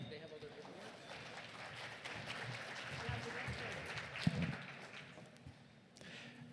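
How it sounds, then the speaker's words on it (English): Audience applause welcoming a panel at a First Nations cancer strategy session, moderate clapping that swells and then thins toward the end, with a few brief voices and sharper knocks mixed in. "So please give them a round of applause to make them welcome."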